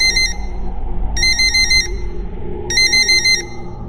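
A phone's ringtone sounds in three bright, repeating bursts, each about half a second to a second long, spaced by short gaps, playing over a low background hum in a quiet room.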